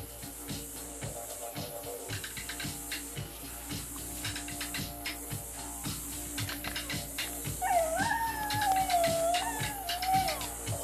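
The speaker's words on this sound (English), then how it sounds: "His whine turned into a full-blown howl of anguish." A young wild dingo pup whines and then breaks into a rising, wavering howl, fairly close and carrying over steady background noise, with no talk.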